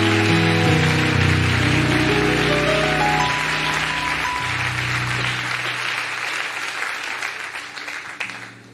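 A church congregation gives the Lord a mighty hand, sustained loud applause filling the room for several seconds over lingering music tones before gradually thinning out.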